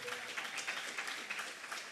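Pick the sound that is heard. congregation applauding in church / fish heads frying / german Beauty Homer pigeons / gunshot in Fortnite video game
congregation applauding in church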